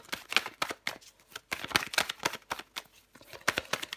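Tarot cards shuffled by hand and drawn, a quick run of crisp papery riffles and flicks in irregular bursts, close and clear with no talk.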